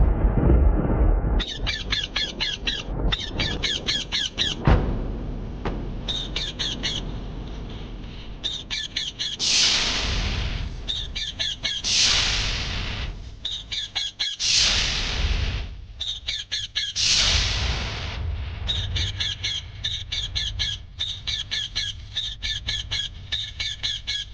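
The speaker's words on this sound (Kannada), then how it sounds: "ಇದು ಆಶ್ರಮದ ಗಿಳಿ ಅಲ್ವಾ?" A parrot in a dense forest gives repeated shrill squawks in bursts, some loud and close, with rustling and flapping between calls.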